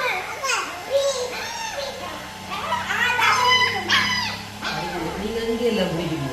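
A puppy whimpers and yips in short high cries mixed in with children's chatter and adult voices in a busy household setting, the dog sounds fairly close and interleaved with the talk.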